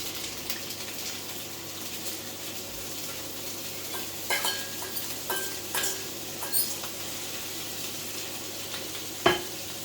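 A steady sizzle of garlic frying in a pan, with scattered stirring scrapes and light clinks of utensils through the middle and one sharp knock near the end; no one speaks.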